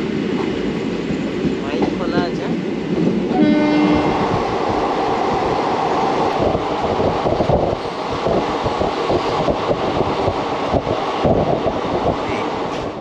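Teesta Torsa Express passenger train running between stations after Malda Junction, a steady loud rumble of wheels and carriages with a brief horn-like tone early on, continuous throughout.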